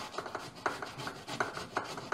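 A carrot is finely grated for mushroom soup, giving soft, rhythmic rasping strokes at a steady pace, quiet and close, with no voices.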